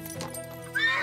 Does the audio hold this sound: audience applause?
no